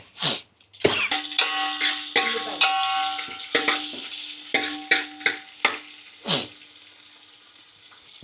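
Onions fry in a pan for fish curry, with a steady sizzle broken by repeated scraping stirs and sharp bursts, some tonal sound running underneath, no talking.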